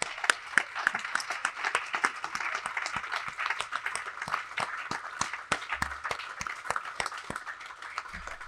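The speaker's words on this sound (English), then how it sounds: "please clap" Audience applause for a graduating class at a school convocation, a steady wash of many hands clapping with sharp individual claps standing out, sustained for about eight seconds without talk.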